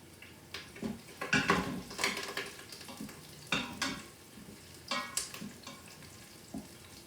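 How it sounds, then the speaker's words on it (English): Curry leaves fry in hot oil in a pan for Indian-style chickpea masala, loud crackling sizzle bursts with scraping spatula stirs and a few utensil clinks against the pan, close up and without talk. "make sure you just stir it enough so it doesn't get burned"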